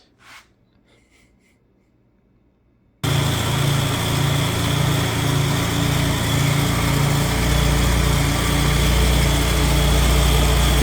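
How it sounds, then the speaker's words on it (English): A Morris Minor van fitted with a Judson supercharger runs loud and steady after a quiet start, its engine drone carrying a faint supercharger rattle throughout. "You can hear a little bit of supercharger rattle, but it's not really too noticeable."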